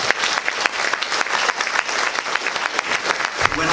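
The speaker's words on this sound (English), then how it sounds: "Give them a round of applause," An audience applauds at a health policy event, a burst of dense, lively clapping with distinct individual claps standing out, continuing steadily throughout.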